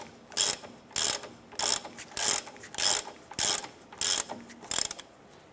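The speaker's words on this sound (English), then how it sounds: "I'm going to go ahead and thread that in a little bit more with my ratchet" A hand ratchet clicks in eight quick, evenly spaced bursts while threading a bolt on the rear shock absorber of a 2007–2012 Nissan Versa, each burst a sharp close rattle of pawl clicks with brief pauses between.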